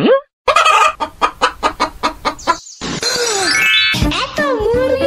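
Cartoon chickens cluck in a rapid, rhythmic run of about ten loud, close clucks, followed by higher squawking and chattering calls.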